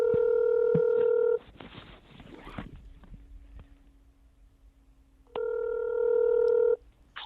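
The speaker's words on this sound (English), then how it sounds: "here, let me get him on the phone" Touch-tone telephone dialing for a podcast call: a long steady tone, then a rapid run of short keypad beeps, a quiet pause with faint clicks and a low hum, and another sustained tone near the end.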